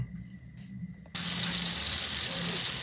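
Butter melts in a frying pan over medium heat for French toast: quiet at first, then a sudden loud, steady sizzle bursts in and continues to the end without speech.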